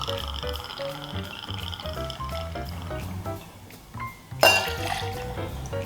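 Whiskey and lime juice poured for a whiskey sour served straight up, a soft liquid trickle with glassy clinks over a light background of music, ending in a brief sharp clink.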